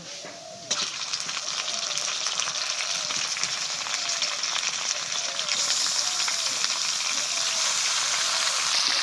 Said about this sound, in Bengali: পেঁয়াজ লাল লাল করে ভেজে নিয়েছি, এবার দিয়ে দিচ্ছি এই ধুয়ে রাখা মাংস